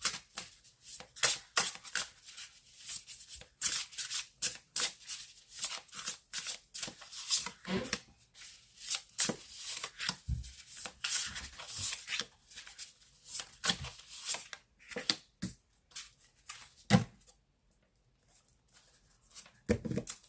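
Tarot cards shuffled by hand before a reading, a long run of quick riffling and slapping bursts with short pauses, close and crisp.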